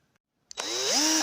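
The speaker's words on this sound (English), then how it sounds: "yeah, I finished drilling with this one, and now it's big enough to fit this through." Power drill boring a hole, starting with a click after brief silence and then running loud and steady with a rising whine, alone.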